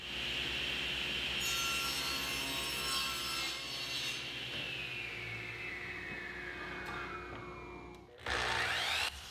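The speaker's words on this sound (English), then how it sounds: "To get started on the frame, I'll rip these poplar boards at 2 3/8." A saw rips through poplar boards in a woodworking shop, a steady continuous whine with rising and falling pitch that fades toward the end, then a brief louder burst of cutting.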